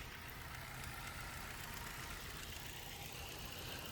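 A 2007 Ford Focus engine idling, a steady, even low rumble with a continuous hiss, heard from close by with no talking.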